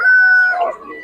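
A rooster crows in one drawn-out call at a busy chicken market, loud and close, with a vendor's voice and crowd chatter mixing underneath.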